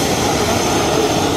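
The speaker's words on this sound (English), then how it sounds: "Hopping on the big boy jet, guys." A private jet's engines give a loud, steady, unbroken roar in a brief burst with no talk.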